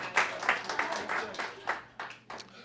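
A small group at a community listening-tour meeting in Manchester, Connecticut, claps for a foundation's contribution, a few scattered, quiet claps in an uneven patter.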